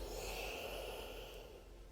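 A steady, breathy exhale during a yoga stretch, soft airy rush of air lasting the whole moment and slowly fading at the end, with no talking.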